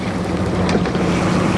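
A coble's engine runs in forward gear during lobster potting in Cardigan Bay, Wales, as a steady close droning rumble mixed with wind and choppy water.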